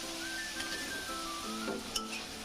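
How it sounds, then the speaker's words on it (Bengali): A spice paste of turmeric, chili and coriander powders sizzles gently in a pan, with light clinks of a utensil against the metal, close and fairly quiet. "দিয়ে মশলাটা ভালোভাবে একটু কষিয়ে নিব।"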